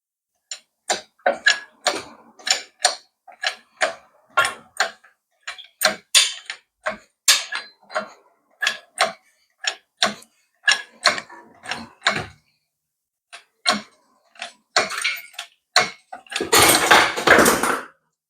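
Ratchet wrench clicking in steady bursts of sharp ticks while a starter motor is removed from a Mercedes E55 engine during a supercharged engine tear-down, with a rougher scraping rasp near the end; no talking.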